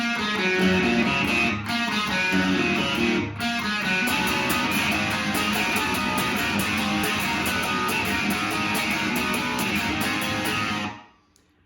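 A loud, distorted electric guitar plays a sustained riff of power chords with two short pauses, ringing steadily before stopping abruptly near the end.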